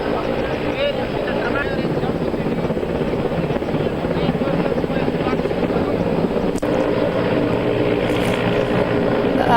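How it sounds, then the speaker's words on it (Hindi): An Indian Air Force rescue helicopter hovers over the flooded Tawi river in Jammu, its loud, continuous rotor roar and engine drone filling the scene at close range. "फजाइया के हेलीकॉप्टर की मदद से इन अफराद को बचा लिया गया।"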